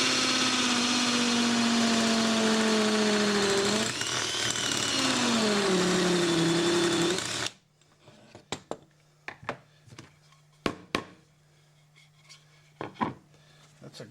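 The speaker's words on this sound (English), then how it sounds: "I have a 1/2 inch drill." A 1/2 inch wood drill bit bores into wood for a large wooden gear, giving a loud steady whine that sags in pitch under load, then stops, followed by scattered knocks and taps.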